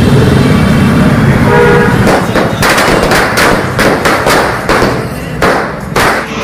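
Rapid strings of sharp cracking pops, firecrackers going off in quick irregular bursts over a loud rumbling background, celebrating the Chandrayaan 3 moon landing, fading slightly toward the end.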